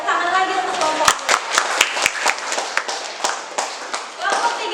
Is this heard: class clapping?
yes